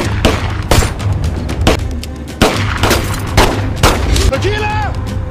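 Film shootout between mafia gang members, with repeated loud gunshots and bursts of fire in quick succession, mixed with a dense action soundtrack and a brief high whine near the end.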